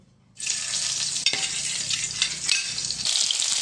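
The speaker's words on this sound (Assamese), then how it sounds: "তাৰপিছত এইখিনি ফ্ৰাই কৰি ল'ম" Paneer-like cubes of cooked egg hit hot oil in a pan and burst into a loud, steady sizzle, with a brief clatter of stirring partway through and no voices.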